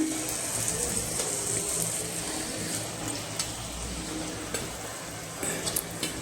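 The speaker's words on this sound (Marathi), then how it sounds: "आता आपण या मसाल्यामध्ये छान असे मिक्स करून घेऊया" Sliced boiled egg pieces being stirred into sizzling masala in a pan for a home-style egg curry, a steady frying hiss with soft scraping stir sounds throughout, close and moderately loud, no talking.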